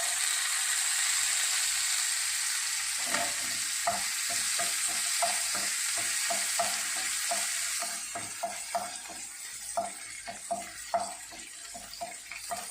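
Cashews and raisins frying in a pan, a steady sizzle overlaid with a quick run of rhythmic scraping stirs, the hiss dropping partway through as raisins go in.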